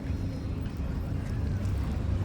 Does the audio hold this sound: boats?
yes